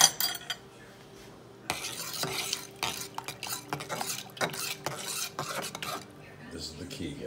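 A utensil stirs mac and cheese sauce made on a cheese roux in a metal pot, giving repeated scraping strokes and clanks in an uneven rhythm, close up, with a faint sizzle beneath and no speech.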